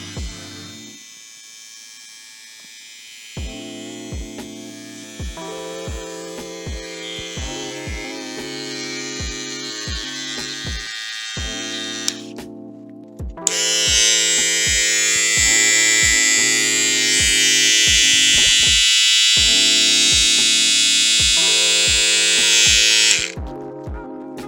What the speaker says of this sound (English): you heard the motor. Sounds powerful.